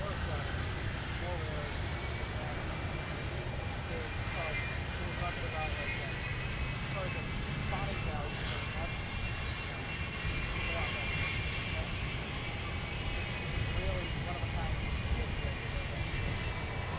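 Jet aircraft at Minneapolis–St Paul airport produce a steady, continuous engine roar, with a broad rumble persisting throughout and no distinct individual events.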